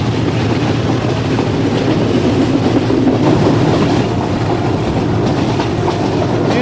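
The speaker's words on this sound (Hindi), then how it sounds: "मज़ेदार ट्रैक साउंड के साथ ट्रेन हमारी बढ़ रही है आगे" A passenger train rolls along the railway track between Rawalpindi and Havelian, a loud steady rumble heard from onboard with faint rhythmic clickety-clack from the wheels and no talking.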